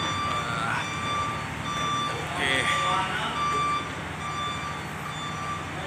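Truck reversing beeps at Dumaguete port repeat steadily amid busy outdoor noise, with a brief spoken word over them.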